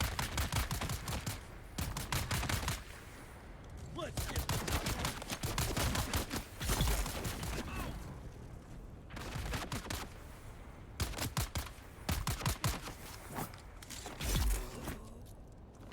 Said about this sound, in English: I'm so unfussed by these guys shooting me.